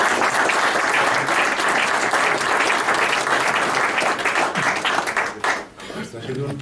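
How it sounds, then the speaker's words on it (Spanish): An audience at a liberal club lecture applauds at the end of a talk, dense sustained clapping filling the room and tapering off near the end, with voices mixed in. "Esto ha sido un aplauso merecido"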